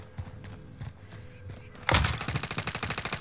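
Rapid bursts of gunfire from a hard-recoiling gun in a video game erupt suddenly partway through and keep going as a fast, loud stream of shots after quieter, muffled thumps.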